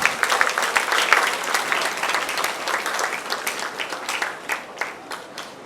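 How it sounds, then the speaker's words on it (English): A crowd at a school Diwali festival celebration breaks into sustained applause as performers take the stage. Dense, bright clapping runs throughout and thins slightly toward the end. "They deserve a big round of applause."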